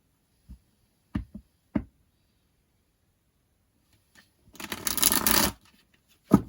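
Tarot cards handled and picked from a deck: a few sharp isolated taps, then a one-second riffling shuffle burst and a final tap, close and otherwise quiet.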